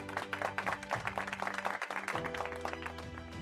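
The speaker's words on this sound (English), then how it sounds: "Let's give Engineer Solicar a warm round of applause." Audience applause at the formal opening of a technology caravan event, a moderately quiet patter of many hands clapping steadily over sustained background music tones.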